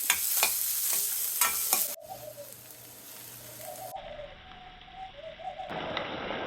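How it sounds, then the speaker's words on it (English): Garlic, ginger, green chilies, curry leaves and chopped onion sauté in oil with bright sizzling and stirring scrapes. The frying fades to quieter stretches while a dove coos softly in the background. "First add chopped garlic and ginger. Green chilies, curry leaves, chopped onion. Saute for 2 minutes on medium heat."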